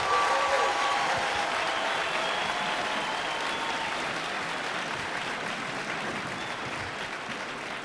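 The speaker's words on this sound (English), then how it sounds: "can I get another round of applause for those outstanding soldiers on the field?" Audience applause fills an outdoor basic training graduation for 2-13th Infantry Regiment soldiers on the field, a steady wash of clapping from a sizable crowd that fades slightly over several seconds.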